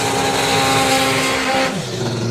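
A doorslammer drag racing car engine roars loudly, holding a steady high rev before the driver lifts off the throttle and the pitch drops to a lower rumble, with no talk over it.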